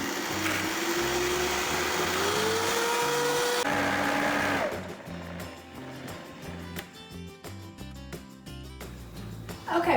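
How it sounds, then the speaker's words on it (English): A blender whirring through raw vegan peanut sauce, a loud steady motor drone whose pitch rises and then shifts as the mixture loosens, with lighter, uneven churning toward the end. "we're going to blend that up"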